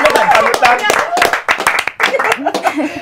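Hands clap in applause for a young dormitory head on a morning talk show. Sharp, quick claps are mixed with close, lively chatter and light laughter.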